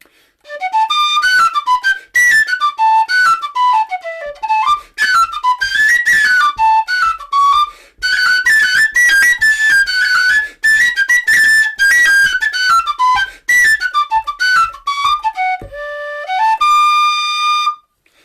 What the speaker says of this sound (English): that's the American Walnut D whistle